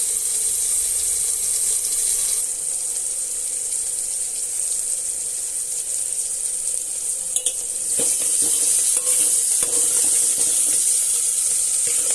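Chukka kura greens fry in a pan with salt added, giving a loud, continuous hiss and sizzle close by, with a few brief clatters near the end and no talking.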